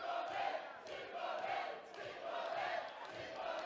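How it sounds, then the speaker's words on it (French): A wrestling crowd chanting "Petite Bobette" to cheer on a young fighter, a loud rhythmic chant that swells and falls in repeated waves across the arena. "la foule qui scande Petite Bobette pour encourager le jeune Bright"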